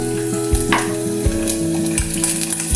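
Tomatoes frying with canned sardines in a pan, a loud continuous sizzle with stirring scrapes and clatter of a utensil, close up and without talk.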